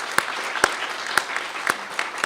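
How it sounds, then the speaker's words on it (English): Sparse applause from a meeting audience at closing remarks, a few distinct claps standing out over a soft, thin patter of hands, fairly close and not very loud. "let's give everybody who was here today, many of whom are still here on the panels,"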